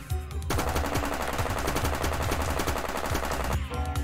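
Rapid, continuous automatic gunfire from a fast-paced retro boomer shooter video game blasts loudly for several seconds with dense, rattling bursts, then cuts off abruptly.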